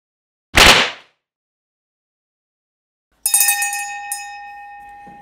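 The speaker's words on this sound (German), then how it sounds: "los geht's, ab geht die Glocke" A single bright bell strike rings out loudly and dies away within half a second, followed by silence and then a second metallic ring with a long sustained tone that slowly fades.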